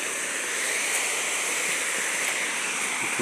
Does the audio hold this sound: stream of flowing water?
yes